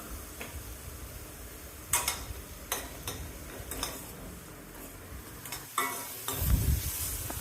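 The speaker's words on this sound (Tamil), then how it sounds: "எல்லாம் சேர்த்து கைவிடாமல் கிளறி வதக்கணும்." Masala for spiced rice sizzles steadily in a pan over a medium-low flame while being stirred continuously, with periodic utensil scrapes and clinks against the pan and no speech.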